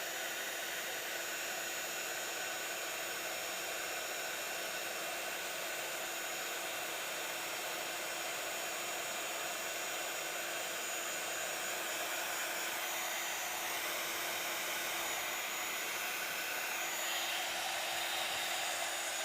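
A heat tool blows a steady, loud, continuous roar at close range while melting embossing powder on a Christmas card, unbroken from start to finish with no speech.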